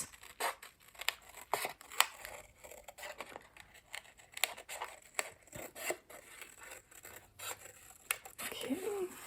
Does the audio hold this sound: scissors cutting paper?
yes